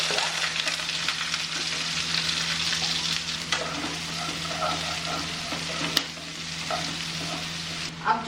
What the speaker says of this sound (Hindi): अब हम प्याज को फ्राई करेंगे गोल्डन ब्राउन होने तक